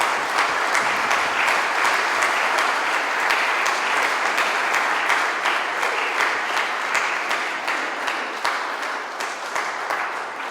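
Sustained audience applause fills a hall at a Spanish-language tribute event, dense and steady throughout, easing slightly toward the end, with no talk over it.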